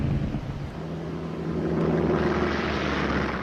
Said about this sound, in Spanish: bombarderos torpederos Devastator norteamericanos, volando a baja altura, atacaron a los buques japoneses